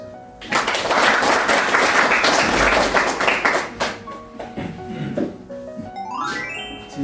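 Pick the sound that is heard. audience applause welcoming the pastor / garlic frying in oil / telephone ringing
audience applause welcoming the pastor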